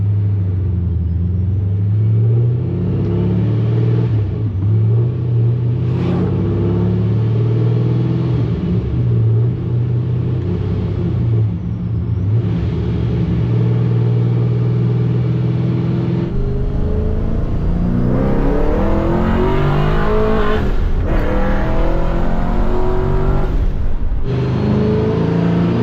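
A supercharged LS engine in a Pontiac GTO idles on E85 fuel, a loud steady droning rumble with lumpy low pulses that shifts pitch and roughens near the end, with no talking.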